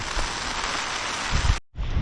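Steady rain falls in a dense, hissing wash, with a few heavier drips near the end before a brief cut.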